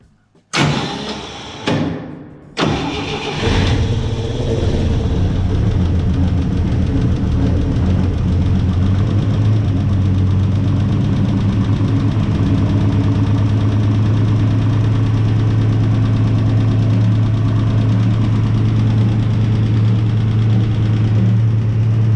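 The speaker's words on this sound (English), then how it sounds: "Still got one noisy rocker on." A 1963 Dodge D100 pickup engine cranks briefly on the choke, catches, and settles into a steady, loud idle with a rough knocking rattle from a noisy rocker, close up and without talk.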